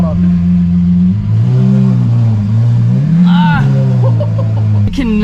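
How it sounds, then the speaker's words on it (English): A Lamborghini Aventador V12 engine idles loudly and close, then gives short revs that rise and fall, ending in a sharp blip at the end. "I can never turn on the Aventador and not rev it at least once, like a baby rev."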